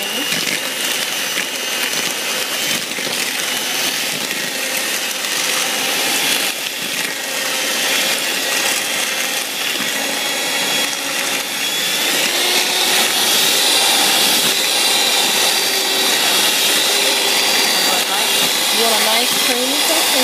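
A steady electric mixer whirs continuously while blending cream for a banana cheesecake, with a broad hissing mechanical drone that grows slightly louder and brighter partway through and runs without break.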